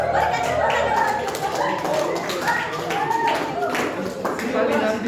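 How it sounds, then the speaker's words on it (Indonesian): Clapping from a church congregation at a Christmas gathering, a lively burst of many hands with scattered chatter and voices mixed in. "Berikan tepuk tangan untuk"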